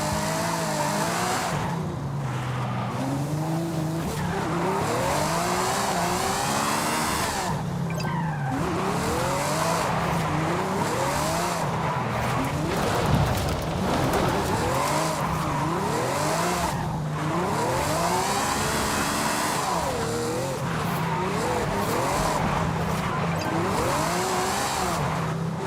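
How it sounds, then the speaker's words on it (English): A Ferrari drifting in Forza Horizon 5 screeches its tires in long repeated squeals that rise and fall over a steady engine drone, continuous and close throughout. "And we'll drift our way around."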